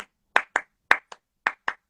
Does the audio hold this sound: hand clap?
yes